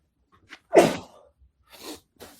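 A single loud, sharp sneeze comes close to the microphone, followed by a couple of faint breathy sounds in an otherwise quiet setting.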